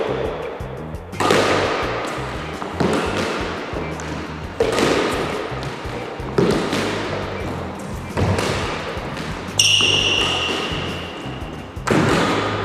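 A squash ball is struck in repeated half volley shots, each loud racket hit followed by the ball thudding off the court walls, about one shot every second or two in a steady practice rhythm.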